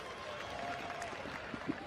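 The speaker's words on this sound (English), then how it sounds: "Give him a big round of applause." A crowd at Florence Speedway applauds after a late model race, a faint, distant wash of clapping mixed with track ambience and a voice.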